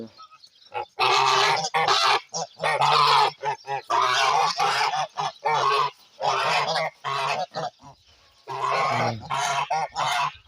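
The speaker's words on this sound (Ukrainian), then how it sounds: "Пішли на річку наші гуси." A flock of Kholmogory geese honk loudly and continuously, overlapping calls with brief pauses, close by.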